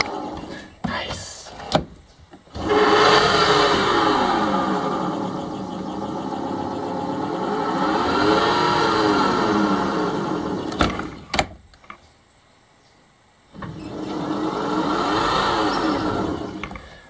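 An electric motor on a Tiger Shark Slicer boat, driven through a newly wired speed controller, whirs up and down in pitch in two long runs with a pause between, close and fairly loud.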